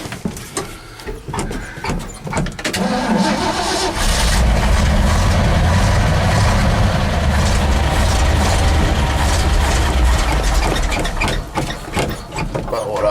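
A 1973 Ford F-700 dump truck engine cranking on old gas, with a loud, steady grinding starter roar that builds after a few seconds of clatter and holds close up for most of the clip.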